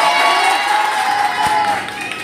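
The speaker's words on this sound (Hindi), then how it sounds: "इसके लिए तालियां बजा दो।" Children in a crowd cheer, whoop and clap for a teacher at a Teachers' Day gathering, a loud, continuous burst of shouting with a steady tonal note running underneath.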